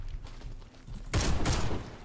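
Typhoon F12 gun in the shooter game Warface fires a dense burst of rapid, loud shots, starting abruptly after a quieter rumbling stretch and sustaining a harsh crackle to the end.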